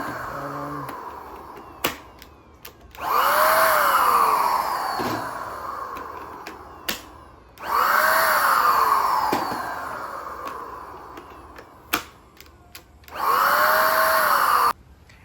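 A DeWalt cordless paint sprayer runs in three separate bursts of loud, steady hissing whir, each lasting a couple of seconds. Short clicks and handling knocks fall in the gaps between the bursts.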